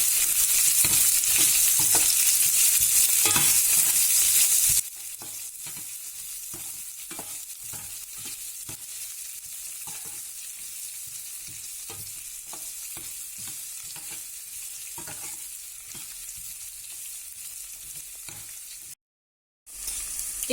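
Green chillies and curry leaves for aval upma sizzle loudly as they hit hot oil, the fierce crackle settling into a quieter fry with steady stirring and scraping until a short break near the end.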